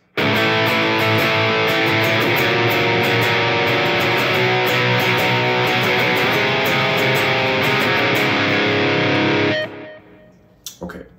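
Distorted electric guitar plays the ascending bridge part of a song, loud and sustained with effects, ringing for about nine and a half seconds before cutting off, followed by a brief faint tail.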